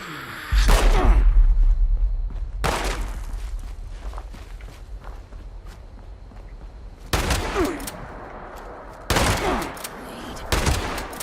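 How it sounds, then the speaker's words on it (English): Gunfire in the video game Fallout 76 comes as a few loud, sharp bursts separated by quieter stretches, with a muffled rumble between shots. "They're still shooting at me"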